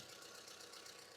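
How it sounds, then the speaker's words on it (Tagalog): A Mitsubishi Lancer engine idles with noisy rocker arms, making a steady, faint mechanical hum with a light ticking texture throughout. "Kung naririnig niyo yung tunog ng ibabaw ng makina niya mga padi,"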